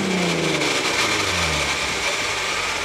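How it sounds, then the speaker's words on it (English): A Volkswagen R32 wagon engine with a fault, idling and revving steadily at a constant moderate level, with rough low rumbling and shifting tones, close by and heard alone without talk. "So it's the engine."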